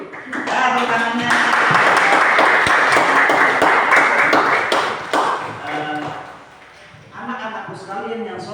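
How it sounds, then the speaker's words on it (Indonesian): Classroom applause, a dense burst of many children clapping together for several seconds, fading out into children's chatter and voices. "Tepuk tangannya."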